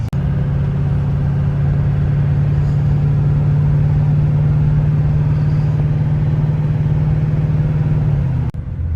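An LBZ Duramax diesel swapped into a Suburban drones low and steady at about 1500 RPM while towing an open deck trailer uphill, a constant cabin rumble with a brief dip near the end.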